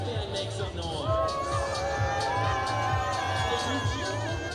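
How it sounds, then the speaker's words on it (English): Stadium crowd at a Missoula Paddleheads versus Oakland Ballers baseball game cheering, a continuous mass of shouts and high whoops, children's voices among them, filling the air at steady volume. "If you have a green wristband, make some noise."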